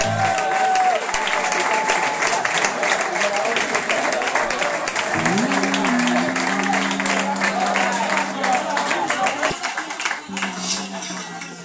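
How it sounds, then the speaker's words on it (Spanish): Loud applause and crowd cheering at a blues band concert, continuous clapping under a few voices and sustained tones, thinning out toward the end. "Quiero que recibáis con un fuerte aplauso"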